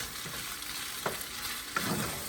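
Shrimp and eggs frying in a pan for shrimp fried rice, a steady moderate sizzle with two brief scraping stir strokes, no talk.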